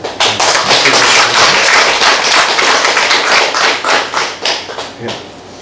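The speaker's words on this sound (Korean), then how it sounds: "우리 식구님께서 다시 한번 응원의 박수를" A church congregation breaks into applause during a family worship service, loud dense clapping from many hands that carries on steadily before thinning out and fading near the end.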